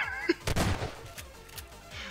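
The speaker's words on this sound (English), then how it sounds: "Shoot the bush enough, it should work." Gunshots aimed at a bush in Garry's Mod Prop Hunt crack out in a short burst, one sharp shot followed by a louder cluster and a few lighter follow-up pops over about two seconds.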